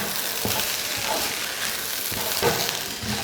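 Cooked rice with soya keema is stirred in a pan over a low flame, giving soft scraping stirs and a gentle frying hiss in a short close burst, no voices.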